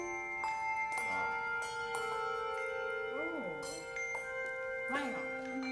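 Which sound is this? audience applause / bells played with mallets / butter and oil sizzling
bells played with mallets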